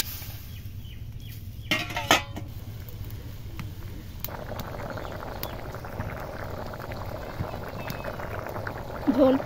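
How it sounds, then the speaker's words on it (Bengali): Curry broth for a magur catfish and jackfruit seed dish bubbles in a pan, a soft continuous boil that follows a couple of brief utensil clinks. "ঝোল ফুটে গেছে"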